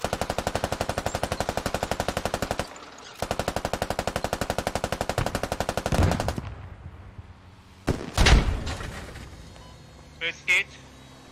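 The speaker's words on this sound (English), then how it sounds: "Yeah, that was a turret." A turret machine gun in the video game Squad fires two long, fast, steady bursts, loud and close with a short gap between them. Scattered thuds and softer game noises follow.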